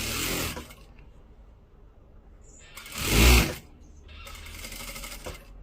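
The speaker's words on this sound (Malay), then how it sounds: "Bunyi kuat tu sebab ni skru tak rapat" A sewing machine with a loose screw stitches a baby-seam shawl in short loud bursts: a rattling run at the start, a stronger surge in the middle, then a steadier whir near the end, with no talking.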